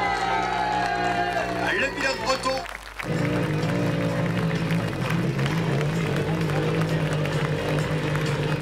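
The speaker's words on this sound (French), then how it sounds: "vous pouvez l'applaudir mesdames et messieurs" Crowd clapping and cheering for an autocross driver at the FIA European Autocross Championship round in Saint-Georges-de-Montaigu, steady loud applause with a PA announcer speaking over it and a brief dip partway through.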